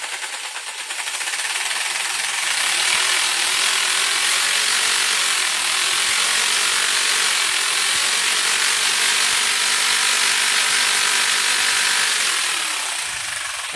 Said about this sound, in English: that there is a 240 volt jigsaw, and I just ran that flat out